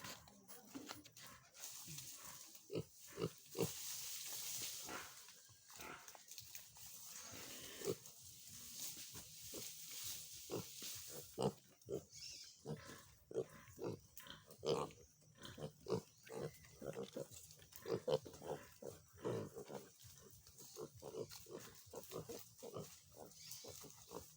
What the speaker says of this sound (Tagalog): Ayan, ang dami ng baboy dito.